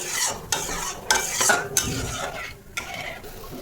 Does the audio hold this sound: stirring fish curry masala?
yes